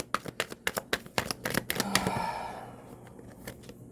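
A Lo Scarabeo tarot deck riffled and shuffled close by, a quick run of crisp card flicks and slaps ending in a short riffle whirr and a couple of final taps.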